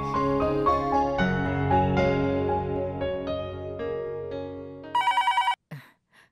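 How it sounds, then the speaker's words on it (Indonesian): A telephone rings in a repeated electronic melodic pattern, loud and close, followed by a burst of rapid high trilling rings before it cuts off abruptly. "aku akan telepon dan mencari tahu apa Purap ada di kantor"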